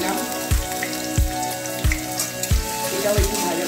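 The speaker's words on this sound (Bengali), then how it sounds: "এটাও একটু ভাজা ভাজা করছি" Cumin, ginger and chillies frying in oil in a pan, a steady close sizzle broken by about five regular clanks of a spatula stirring against the metal.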